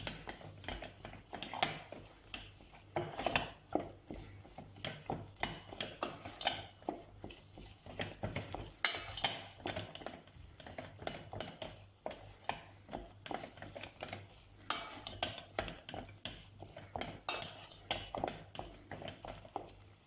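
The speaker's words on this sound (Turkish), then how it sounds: "Bu şekilde karıştıralım." Soft, steady scraping and clinking of a spoon stirring profiterole mixture in a pot, continuous rhythmic strokes close by, with no speech over it.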